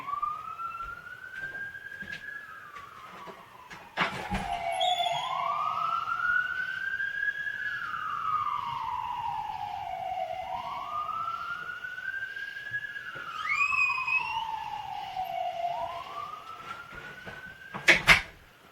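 An ambulance siren passes in the background, wailing in long rising and falling sweeps that continue steadily for the whole stretch, with a few sharp clicks and thumps along the way.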